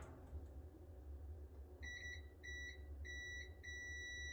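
Repeated short electronic beeps from a multimeter on continuity test while checking a part of a Kenmore 70 Series dryer that is not heating, four steady pulses over a low background hum.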